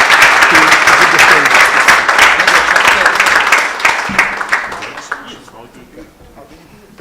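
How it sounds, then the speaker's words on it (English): Audience applause for two professors at a hosted executive dialogue event, dense clapping filling the room for about five seconds before thinning out and fading. "a big round of applause for Professor Mokgalong and Professor Badat"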